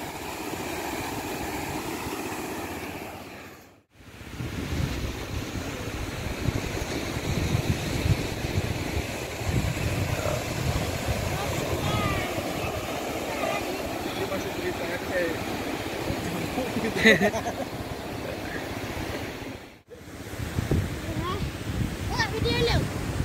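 Waves and wind at Ketapang Mameh beach in East Aceh, a steady broadband wash of surf and gusts with low rumble, interrupted by two brief dropouts, with faint voices in the background.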